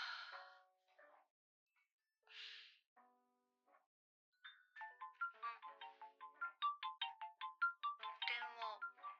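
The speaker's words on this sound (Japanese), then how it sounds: "電話鳴ってる" Ringtone from a phone plays as a quick, bright electronic melody of rapid repeated notes that grows steadily louder, preceded by a few short sighs and soft vocal sounds.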